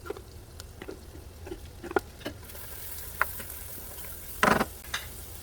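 Shallots and garlic cook in a pan with a soft, steady sizzle and patter. There are occasional clicks and taps of a utensil stirring, and a louder scrape near the end.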